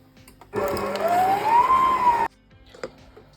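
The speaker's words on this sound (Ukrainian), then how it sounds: "Так, починаємо збивати крем." An electric mixer with a standard beater runs at low speed, whipping butter, condensed milk and sugar into cream. Its steady motor whir rises slightly in pitch and lasts under two seconds before cutting off abruptly.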